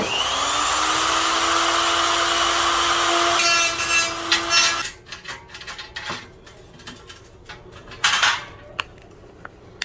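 A cutoff tool slices through a metal closet door track, a loud sustained high grinding whine that cuts off midway, followed by scattered clinks and rattles of metal pieces being handled nearby.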